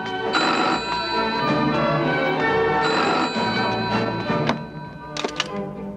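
A telephone rings in a dubbed Chinese TV drama scene, a steady sustained ringing tone running through most of the clip with brief taps near the end; no talk.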